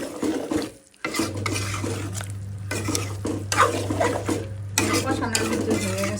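Potato, radish and eggplant being stirred and sautéed with dried mola fish in a pan, a steady low hum under repeated scraping and clinking of a spoon against the pan, close and fairly loud throughout.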